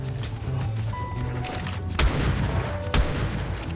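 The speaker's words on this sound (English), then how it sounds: "Maybe I'll do a test with this shotgun." A shotgun fired in ARK: Survival Evolved lets off two sharp, loud blasts about a second apart, at two and three seconds, over a dense, busy game soundscape of rumble and noise.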